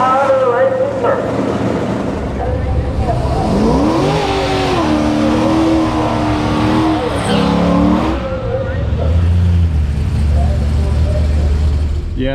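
A Tesla Plaid and a Chevrolet Corvette drag race down a quarter-mile strip. An engine roars and revs with rising and falling pitch, and a loud steady vehicle rumble runs throughout, mixed with crowd or commentary voices.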